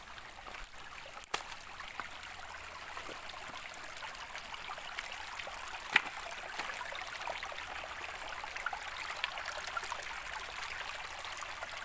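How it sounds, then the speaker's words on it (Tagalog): A quiet, steady rush of a river flowing below the old Gugo Bridge in Batangas City runs throughout, with faint occasional clicks and splashes mixed in. "Napakaganda po ng ilog dito sa ibaba."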